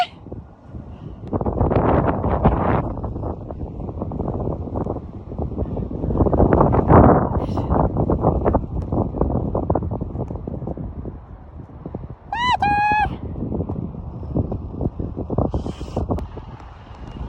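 Strong wind buffets the microphone outdoors in gusty, roaring bursts that rise and fall throughout, with a brief high whistle-like call near the end and no clear speech.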